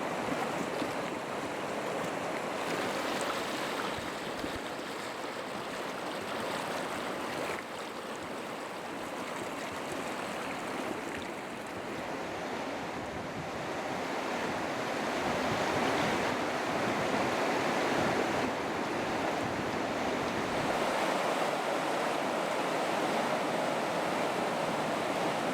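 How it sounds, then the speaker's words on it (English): Whitewater rapids at Balcony Falls on the James River roar in a continuous, dense rush of churning water, steady and full throughout with no voices. "Sure hope you enjoyed that whitewater lullaby from Balcony Falls on the James River."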